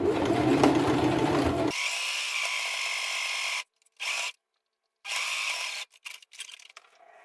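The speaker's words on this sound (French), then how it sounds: "vous cousez comme ceci et quand vous arrivez au repère, vous levez le pied" A sewing machine stitches fabric pieces for indoor slippers or socks, running in steady whirring bursts that stop and restart several times, with short quiet pauses between runs.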